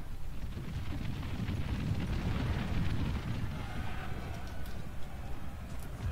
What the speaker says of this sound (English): Cannons are still firing shots.